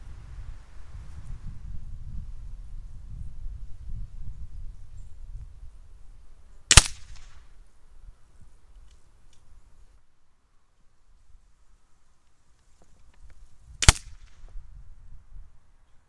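Two airgun shots fired at a target while zeroing, each a single sharp crack about seven seconds apart, close and loud against a quiet background with low rumbling handling noise.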